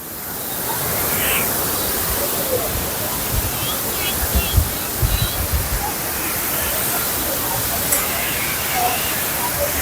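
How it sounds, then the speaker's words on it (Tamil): Water pouring near a waterfall bathing spot in the hills on the Tamil Nadu–Kerala border at Achankovil, a steady broad rushing wash with brief bumps and voices faint in the background. "இந்த சைடும் தண்ணி வருது அந்த சைடும் தண்ணி வருது"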